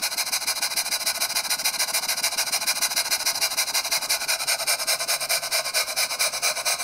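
A Jensen #20 toy steam engine chuffs under load, a fast, even rhythm of soft rasping puffs repeating steadily and close, faint and alone.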